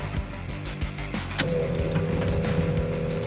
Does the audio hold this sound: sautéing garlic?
no